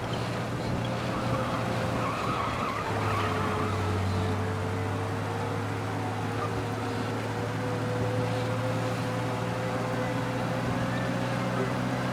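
A car engine in the video game Mafia: Definitive Edition drones steadily at speed for several seconds, with a sustained tire squeal layered over the engine hum.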